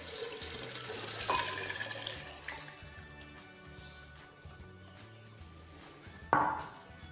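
Cold water pours steadily into a blender for several seconds, faint and continuous, ending with a brief clink.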